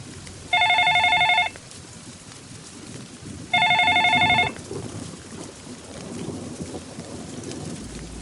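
Two long electronic telephone rings, each about a second, sound clearly over steady rain in a stormy indoor setting, with a quiet pause between them.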